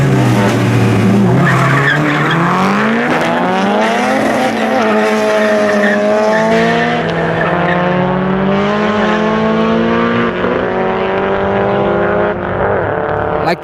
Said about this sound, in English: Next up is George in the Fox versus Gio in the Civic.